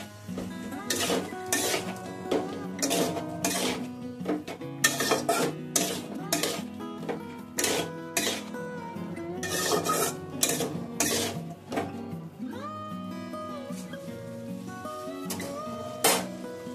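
Kundri (ivy gourd) curry stirred and fried in a pan with a little added water, a spatula scraping and knocking against the metal in a steady run of clinks and scrapes over a soft sizzle.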